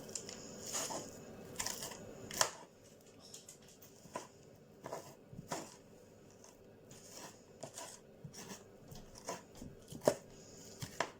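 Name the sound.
spooning seeds out of roasted butternut squash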